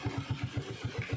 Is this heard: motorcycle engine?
yes